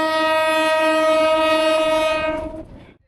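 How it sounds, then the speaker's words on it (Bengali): The Mahanagar Express sounds a loud, sustained horn as it departs Dhaka for Chittagong, holding the tone for over two seconds before it cuts off and fades. "ঠিক 9:30 মহানগর এক্সপ্রেস ট্রেনটি ঢাকা থেকে চট্টগ্রামের উদ্দেশ্যে রওনা দেয়।"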